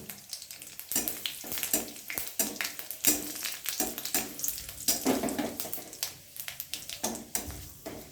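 Panch phoron spices crackle and sizzle in a little hot oil in a kadai, with dense popping bursts and short bright spurts running steadily throughout, close up with no talking.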